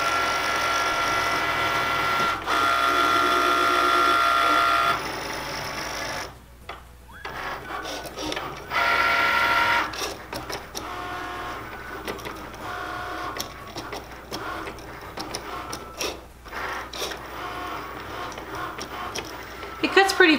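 Cricut Maker cutting machine slicing heat transfer vinyl, a close whirring motor with carriage moves and stop-start mechanical chatter, partly under a talking voice.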